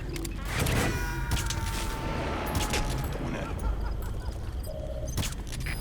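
Gunfire from a suppressed weapon in Metal Gear Solid V, several sharp shots scattered through the clip over steady in-game ambience, with one hit landing as a headshot.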